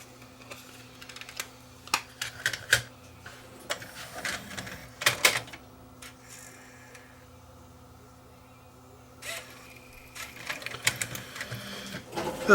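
A TASCAM DA30 DAT deck with a gummed-up loading mechanism struggling to load a tape, bursts of clicking, whirring and ratcheting mechanical noise separated by quiet pauses, close and fairly loud.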